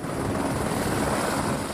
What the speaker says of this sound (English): One after another, helicopters land at this medical centre in Armenia's capital, Yerevan.